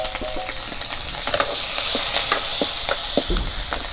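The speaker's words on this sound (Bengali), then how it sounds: "এখন তেলগুলো গরম হয়েছে, পেঁয়াজ দিয়ে দিই। পেঁয়াজ কুচি, কাঁচামরিচ কেটে দিছি।" Chopped onion and green chilli hit hot oil for an egg dish, setting off a loud, bright sizzle and spitting hiss with scattered crackling pops and utensil knocks, rising steadily in intensity.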